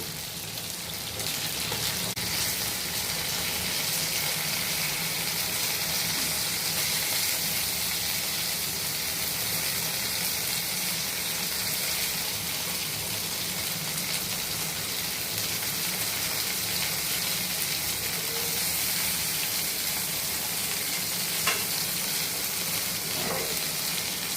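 Fish frying steadily in a pan as the pieces are turned over, a dense continuous sizzle with faint stirring, close and fairly loud throughout.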